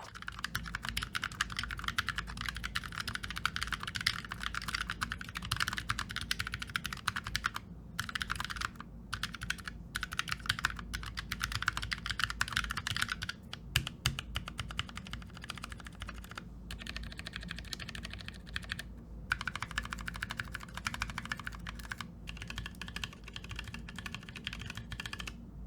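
Typing on a Fnatic Streak65 keyboard, a steady stream of close, crisp keystrokes running continuously at a quick pace with a few brief pauses, no voices.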